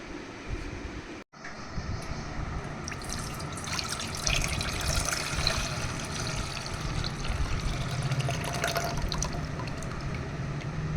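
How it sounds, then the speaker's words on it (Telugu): Jaggery water is poured into tamarind water for Ugadi pachadi in a clay pot, a steady close liquid stream and splashing running for several seconds after a brief cut. "ఇవి బెల్లం నీళ్ళు ఈ బెల్లం నీళ్ళని చింతపండు నీళ్ళలో మిక్స్"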